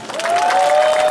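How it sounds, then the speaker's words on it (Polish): Audience applause at a theatre comedy show, a short burst of dense clapping heard up close with a sustained tone running underneath. "teraz rzęsiste brawa."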